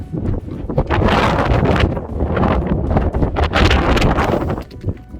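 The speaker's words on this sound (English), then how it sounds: "It's a little bit more windy over there. Well, you can hear it from here." Strong wind on the Gap Fable Traverse roars and buffets the microphone continuously, a dense rumbling gusty noise with no voices.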